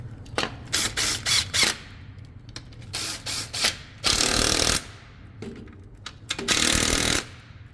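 Well-worn impact gun with a socket extension, used during transfer case and front yoke replacement work, firing several loud rattling hammering bursts of varying length, two of them long, with quieter mechanical noise in between.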